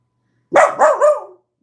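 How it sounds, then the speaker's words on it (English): A dog lets out a quick burst of three close, loud barks in rapid succession, then falls silent. "sorry, that's my dog."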